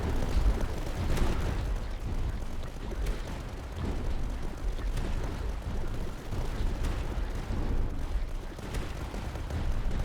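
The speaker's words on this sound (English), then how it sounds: "the anti-air guns will still shoot the ground" Anti-air guns in the strategy game Tower Dominion fire in a dense, continuous barrage of overlapping booms and thuds that rumble steadily throughout, with no voices.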